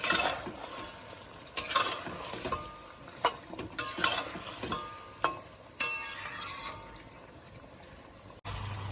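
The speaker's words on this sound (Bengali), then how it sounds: "মাংসটা তো এখনো কষানো চলছে দেখো সুন্দর তেল বেরিয়ে গেছে" Chicken for a red chicken curry sizzles in oil in a pan as a spoon stirs and scrapes it, with a soft frying hiss under a series of sharp, irregular clatters and scrapes.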